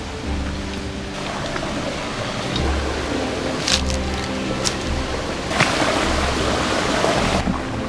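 Clear, cold river water flows between rocks along a hidden stream near a village with waterfalls, a steady close rushing wash with no voices.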